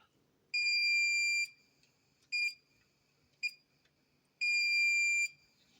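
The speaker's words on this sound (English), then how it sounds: "as soon as those primers are empty again, the alarm will turn back on" The primer alarm on a Lee Load-Master reloading press buzzes in loud, shrill electronic bursts: two long tones with two short blips between them, close and clear over a quiet background.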